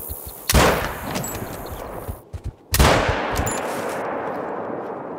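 Two loud 6.5 Creedmoor rifle shots in the hunting game theHunter: Call of the Wild, each a sharp crack followed by a long echoing decay, a couple of soft clicks between them.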